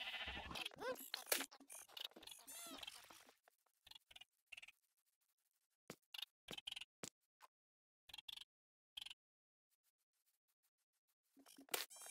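Sheep bleat in a Minecraft game in scattered short bursts, with busier sound at the start, then sparse clicks and bleats separated by silent gaps.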